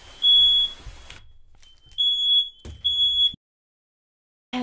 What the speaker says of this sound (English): The alarms scared the fuck out of me.